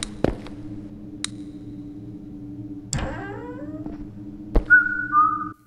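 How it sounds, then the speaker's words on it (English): In a home-invasion horror video game, a sharp whistle rises then falls, and a short, high whistled tone follows later, over a low, steady hum with scattered clicks and thuds. "Don't whistle at me."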